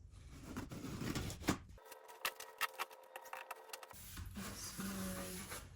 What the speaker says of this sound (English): I'm going to use my box cutter, go along this trim at the top to cut off the excess.